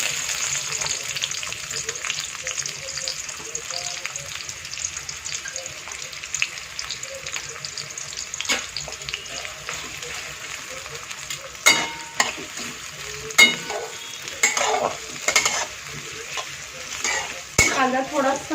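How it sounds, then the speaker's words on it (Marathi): Onion and whole spices frying in hot oil for mutton masala, a steady bright sizzle throughout with occasional sharp clinks and scrapes of stirring in the pan. "तेलामध्ये आता आपण हे सगळं मसाला भाजून घेणार आहे। आता आपण कांदा टाकणार आहे।"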